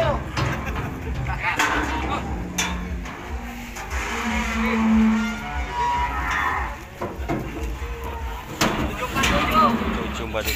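Cattle moo at a Javanese livestock contest, with one long low moo standing out mid-clip amid crowd chatter, engine noise and steady outdoor din; people talk nearby throughout.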